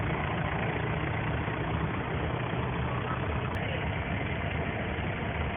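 A vintage green-painted diesel tractor idles at a vintage farming show near Dillington, Ilminster, a steady, even engine chug running unchanged throughout.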